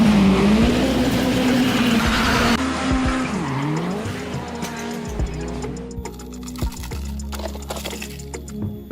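A toy monster truck car revs and skids with a rising and falling whine and squeal, loud and close, then eases into lighter rattling and scraping.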